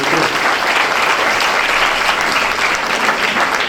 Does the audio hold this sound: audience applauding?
yes